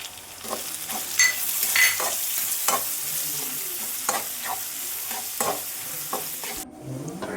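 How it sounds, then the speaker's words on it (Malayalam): Ginger, garlic and green chillies are sautéed in hot oil for a chicken roast, giving a continuous sizzle broken by regular scraping stir strokes of a spoon in the pan, with no voices. "ഇഞ്ചി, വെളുത്തുള്ളി എന്നിവ ഇട്ട് വഴറ്റാം"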